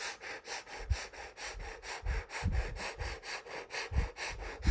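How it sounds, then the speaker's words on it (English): Rapid, rhythmic forceful breaths through the nose, a steady pumping huff repeating quickly and evenly at moderate volume, with no talking. "Fire breathing again."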